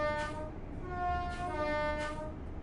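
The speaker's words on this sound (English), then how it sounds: "That'll blow off the train whistle to get us moving on down the track" Horn of an LNER train in Train Sim World sounds in three long, steady blasts, a pair of tones, over a constant low rumble of the moving train, with no talking.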